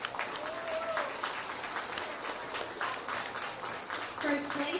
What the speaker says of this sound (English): Let's go and give that whole group a big round of applause.